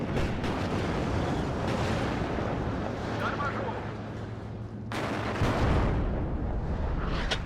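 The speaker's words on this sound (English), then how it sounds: "The artillery coming in immediately as well." Artillery barrages and explosions from the WARNO strategy game during a massive tank engagement, a dense continuous rumble of blasts with bursts throughout, under steady talk.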